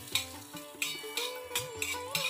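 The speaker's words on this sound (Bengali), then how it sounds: "বাটারটা ভালো করে আমি গলিয়ে নেব" Butter melting and sizzling in a kadai on a gas stove, the first step of a brinjal cheese bhapa recipe; about five rhythmic scraping stirs ring out over a soft, steady sizzle, close and moderately loud.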